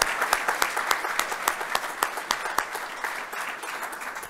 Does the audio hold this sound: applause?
yes